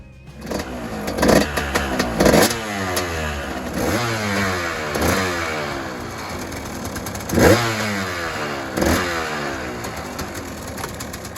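A KTM 200 two-stroke motorcycle engine revs repeatedly, rising and falling in a series of sharp, screaming throttle blips over a steady running note.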